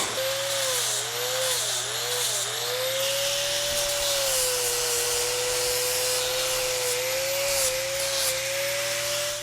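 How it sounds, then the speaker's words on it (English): Electric grinder trimming the inside of a Jersey dairy cow's hoof toe, a continuous close whine that dips and rises in pitch as it bites into the hoof, with a rough grinding rasp. "I use this to kind of grind the inside part of the toe"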